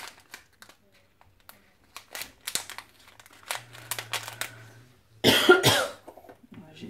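A few coughs burst out loudly near the end, following quieter rustling and handling noises, with a hint of talk earlier.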